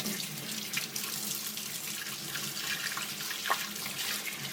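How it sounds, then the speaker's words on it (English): Tap water runs steadily through a Kuvings Auto10 juicer, a continuous broadband rush with small splashes and gurgles as it rinses the parts clean, close and alone with no talking. "Run water right through here and it'll push everything out."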